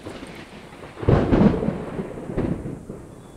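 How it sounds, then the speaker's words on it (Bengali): Strong storm gusts roar across open fields by a nursery, with low rumbling thunder and rain building in two heavy surges and then easing off. "এই দেখো ঝড় তুলেছে কত জোরে"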